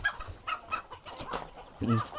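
Close, agitated squawks and clucks from a rooster being held, several short cries ending in a louder one.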